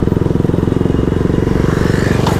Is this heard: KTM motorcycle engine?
yes